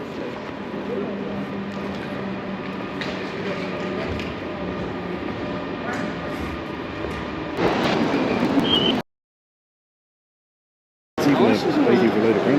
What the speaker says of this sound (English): If you look down here, locomotive coming in.